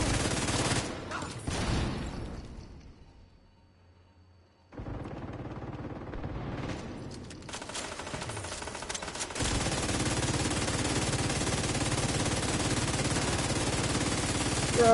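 Sustained automatic gunfire in The Division 2 video game: heavy bursts at the start, a short lull, then steady, dense shooting that keeps up without a break to the end, with little talk.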